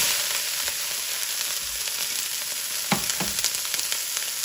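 Vegetables frying in smoking-hot grapeseed oil in a pan, an even, loud, continuous hiss throughout, with a few sharper crackles and spatters near the end.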